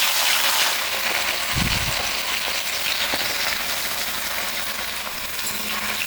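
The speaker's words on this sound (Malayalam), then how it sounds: "അത് നമുക്ക് എണ്ണയിൽ നല്ല ബ്രൗൺ കളറിൽ വറുത്തെടുക്കാം" Two thinly sliced onions fry in oil over a low flame, giving a steady, close, loud sizzling hiss with an occasional soft clink from the pan and no talking.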